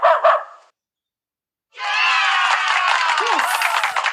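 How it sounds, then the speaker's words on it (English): A dog gives two quick, close barks, followed after a short silence by loud crowd cheering. "This is a dog."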